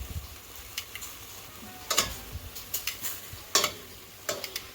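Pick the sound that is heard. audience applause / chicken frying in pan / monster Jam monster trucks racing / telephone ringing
chicken frying in pan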